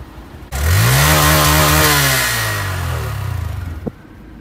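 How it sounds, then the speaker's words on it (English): A Harley motorcycle engine revs hard up close, a loud sustained roar with a rising then falling pitch for about three seconds, easing off before a sharp final pop. "Give me some revs!"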